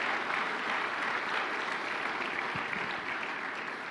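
Steady applause from a church congregation, dense and continuous throughout, filling the room at a fairly close, even level with no talk over it.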